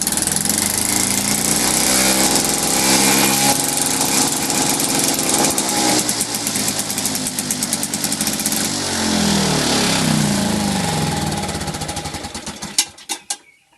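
Victa two-stroke lawn mower pull-started at full throttle and running on a rich fuel mix, a loud buzzing engine that revs and wavers close by, then cuts out abruptly near the end with a few sputters.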